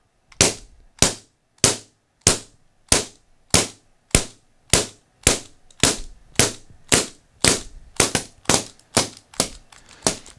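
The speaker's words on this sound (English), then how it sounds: "No ammo is loaded. We're releasing CO2." LTL Alpha 1.5 and Bravo 1.5 pepperball launchers dry-fire CO2 with no ammo loaded, giving about sixteen sharp, loud pops in a steady rhythm that quickens slightly toward the end, with no talk.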